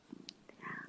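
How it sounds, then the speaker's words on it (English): A cat purrs softly and close by, a low, steady rumble through a quiet live online voice chat, with a few other faint sounds over it and no one talking. "the cat is purring here, by the way"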